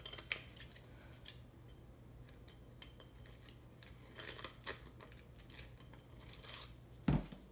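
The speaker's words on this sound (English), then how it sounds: "Grab my scissors, and then I'll just trim the underside here on each one." Several quick metallic snips from scissors trimming tape on resin coaster tiles, sparse and close, with a louder clipped snip near the end over a low steady hum.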